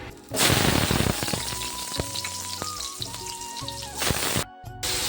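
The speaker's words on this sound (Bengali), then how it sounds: "এবারে আমি আলু আর পটল আলাদা আলাদা করে ভেজে নেব।" Potatoes hit hot mustard oil in a wok with a sudden loud sizzle that settles into steady, crackling frying. Faint tonal clinks sound along with it, and the sizzle swells again before a short break near the end.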